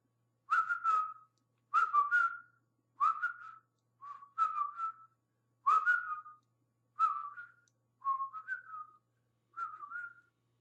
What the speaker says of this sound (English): Sorry, I have to whistle that, but I'll try to basically hum it.